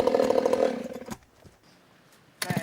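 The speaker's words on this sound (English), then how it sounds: "thank God my chainsaw started this time." A chainsaw roars loudly and close while felling a roughly 1,200-year-old, 10-foot cedar in a logging setting. It cuts out briefly and then revs up again near the end.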